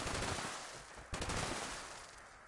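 Sustained automatic fire from an MG42 machine gun in Fallout 76, a dense continuous roar of rapid shots with a sharp burst midway, loud and close, no talking.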